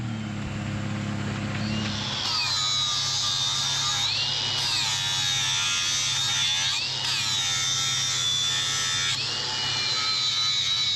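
A vehicle winch drives steadily as it reels in cable during an off-road trail recovery, a loud continuous motor whine that rises and dips in pitch with the load, starting after a brief lower engine rumble.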